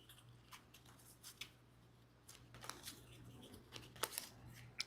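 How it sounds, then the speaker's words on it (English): A deck of game cards is shuffled during a card game, producing faint, quick papery riffles and soft clicks in short clusters, growing slightly busier toward the end. "Alright, give these a shuffle."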